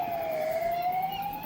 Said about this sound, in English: Is it a police car? It might be an ambulance. It's an ambulance.